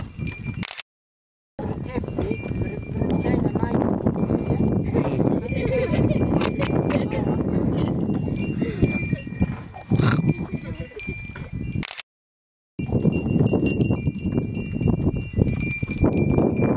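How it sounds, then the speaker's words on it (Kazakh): Horses wearing bells walk through open countryside in the Kokbastau area of Yntaly village, Alakol district. Hooves clatter continuously with jangling bells close by, and two brief silent breaks interrupt the steady sound. "мына қоңырау жылқылар кімдікі екен мынау"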